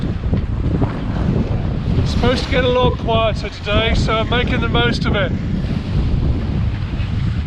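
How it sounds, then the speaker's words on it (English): Steady, rushing wind noise at sea, gusting to about 22 knots while sailing across Cardigan Bay, Wales, buffets the microphone throughout, with someone talking over it in the middle. "Got gusts of maybe 22 knots."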